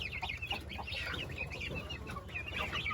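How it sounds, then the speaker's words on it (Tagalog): Young chicks peeping and clucking close by, a dense overlapping chorus of high chirps with lower fowl clucks underneath, steady and busy throughout, no talking. "Ayan mga sisiw."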